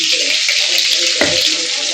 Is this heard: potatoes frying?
yes